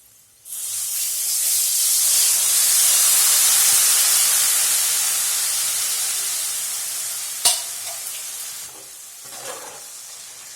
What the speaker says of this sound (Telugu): ఇప్పుడు ఇందులోకి మనం ముందుగా ఇలా నానబెట్టి పెట్టుకున్న చింతపండు పులుపును వేసుకుందామండి